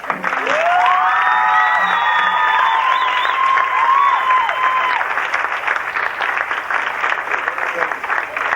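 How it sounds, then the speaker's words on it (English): Applause and cheering fill a 1990 high school football banquet in a VFW hall, with a loud whoop and sustained voices rising over steady clapping from the crowd. "We'd like a round of applause."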